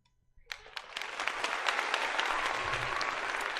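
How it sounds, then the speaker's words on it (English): A recorded applause sound effect plays on a livestream, starting from near silence with a few claps, then swelling into full, steady crowd clapping that holds on at moderate level. "Yeah, now we finally get the applause"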